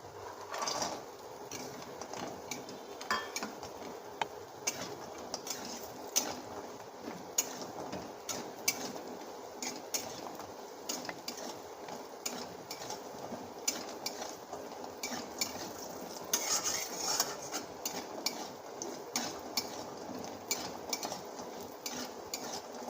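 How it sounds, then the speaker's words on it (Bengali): Lentil dumplings (bori) fry in a pan for a sukto, with a soft low sizzle and frequent light taps and scrapes of a stirring spoon, fairly quiet and continuous. "বড়িটা আগে ভেজে নেবো"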